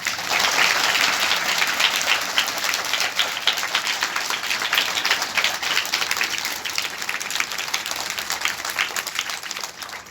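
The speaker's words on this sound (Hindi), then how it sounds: "तालियां बजाएं।" Sustained applause from a room of schoolgirls and their teachers at a Sahaja Yoga meditation session in a girls' school, dense clapping that stays loud and steady for the full ten seconds, with no talk over it.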